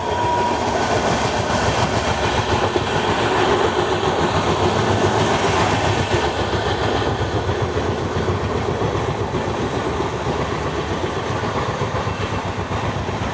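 The Sachkhand Express runs steadily on the rails, a loud continuous rumble with rhythmic clickety-clack heard from on board, no voices.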